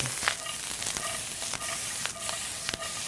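Oil sizzling in a hot pan with broccolini, a steady close frying hiss broken by a few sharp crackles and light clinks, with no talking.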